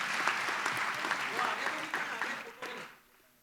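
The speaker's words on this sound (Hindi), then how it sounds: "तालियां" An audience at a student felicitation ceremony for JEE and NEET achievers breaks into steady clapping that fades out toward the end, with people talking underneath.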